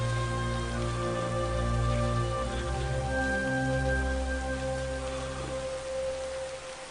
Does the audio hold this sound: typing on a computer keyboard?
no